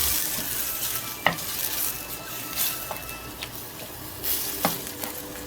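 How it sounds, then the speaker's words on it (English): Ground beef browning in a pan for a cheesy beef casserole: a steady close sizzle and fry hiss, broken by a few scraping stirs of the spatula against the pan, with no talking. "we just want to continue browning up our meat here"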